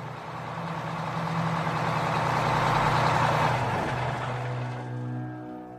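Bus engine idling as the bus stops, a loud, steady low rumble with a mid-range drone that swells and then settles as it comes to rest, with no voices.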